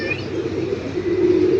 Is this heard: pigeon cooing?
yes